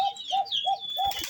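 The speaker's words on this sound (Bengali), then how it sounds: "এই যে আমি আপনাদের একটা অ্যারাবিয়ান কোখা কবুতর ধরে দেখাই" A male Arabian Kokha pigeon gives a quick series of four soft, repeated coos close by, ending with a brief burst of wing flapping.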